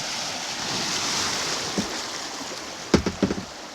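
Rushing water and wind roar steadily around a boat on a flooded Antietam Creek, then several sharp thumps and splashes as it bounces through rough whitewater rapids.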